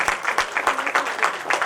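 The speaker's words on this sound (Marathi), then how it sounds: "जोरदार टाळ्या वाजवायच्या आहेत." An audience claps for an award-winning primary school teacher at a Mumbai mayor's best teacher award ceremony, a short burst of fairly loud clapping with rhythmic pulses.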